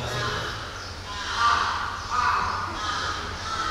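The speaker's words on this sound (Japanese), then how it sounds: "多分カラスが喜んでるね。" Crows caw outdoors in a few drawn-out calls, rising in the middle of the stretch, heard over a low steady drone and someone talking.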